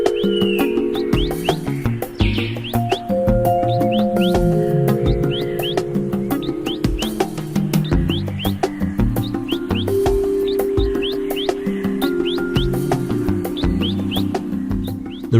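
Many birds call and chirp in the secondary rainforest of Tabin Wildlife Reserve in Sabah, with repeated short tweets and whistles over a steady, dense layer of lower tonal sound.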